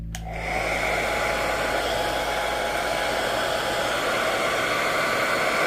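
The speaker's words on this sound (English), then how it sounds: "blow dryer on low, and I'm going to very gently work from the outside in" A hair dryer on its low setting blows over wet ink from about a foot away, clicking on and then holding a steady, loud, close whoosh of air with no talking.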